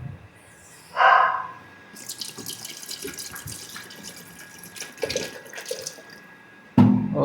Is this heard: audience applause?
no